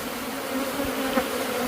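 Killer bees buzzing in a steady, close, loud drone, with a continuous hum from the swarm and no voices.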